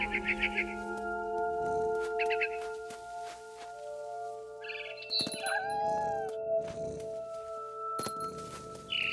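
Cat meowing in the video game What Remains of Edith Finch, a few short mewing calls over a sustained musical score with tonal chimes, fairly close and moderately loud.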